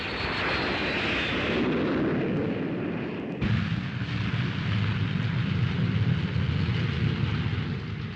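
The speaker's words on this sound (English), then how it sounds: "the fastest fighter flying today" Jet fighter from 1951 newsreel footage roaring past, a loud continuous engine rumble and whoosh with a sudden shift in tone midway, recorded on old film sound with no voices.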